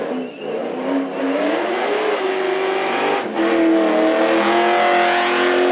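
A Trans Am drag car makes a hard pass down the dragway at a Knoxville bounty event, its engine roaring loud and close with rising revs as it climbs through gears, sustained for several seconds.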